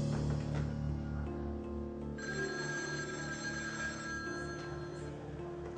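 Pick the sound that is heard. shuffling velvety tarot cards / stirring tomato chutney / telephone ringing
telephone ringing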